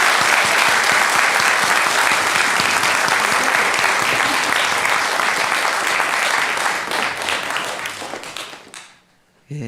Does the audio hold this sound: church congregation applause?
yes